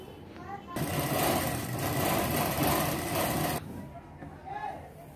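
A sewing machine runs in one steady burst of fast stitching for about three seconds, putting a hem on the lower tier of a three-layer baby frock for a small girl. It stops abruptly, and a faint voice is audible before and after.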